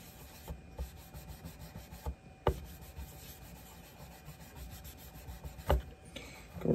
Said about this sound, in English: So we'll take never dull out and start polishing on this knife a bit